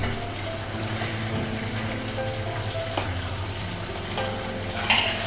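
Meat is stir-fried in a pan for a Bengali kosha, a soft continuous sizzle with scraping and clinks of a spoon against the pan, ending in a brief louder clatter.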